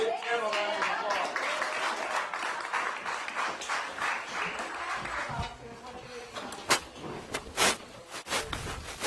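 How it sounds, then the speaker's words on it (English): An audience bursts into applause for Tim Hauser, a grill master at a live event, first under a talking voice, then breaking into sharper, scattered claps toward the end. "Give Tim a round of applause"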